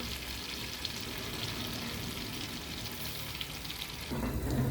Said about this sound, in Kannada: ಇದನ್ನು ಸಣ್ಣ ಉರಿಲೇ ಕುದಿಸ್ಬೇಕು.